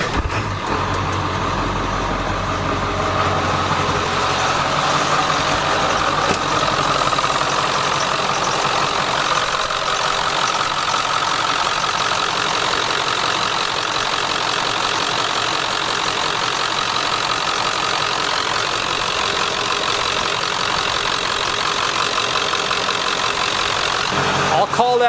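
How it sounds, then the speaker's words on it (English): A Ford 7.3 Powerstroke diesel in an OBS-generation truck cranks and settles into a steady, loud, rumbling idle after a fuel filter replacement, running continuously up close. "Crank it, start it, check for leaks, and you're good to go."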